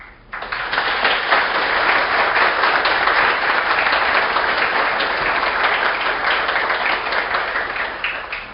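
Loud, sustained applause from a large audience at a Spiritist talk, dense clapping that swells quickly and holds steady for several seconds before easing.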